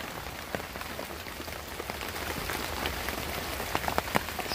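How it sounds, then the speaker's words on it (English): Steady rain falling on a surface, a dense close patter of drops with scattered louder taps, continuous and alone without any voices. "See, it's raining."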